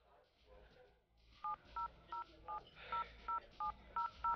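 Telephone keypad tones as a phone number is dialed, about ten evenly spaced beeps following a brief stretch of quiet talk, close and clear.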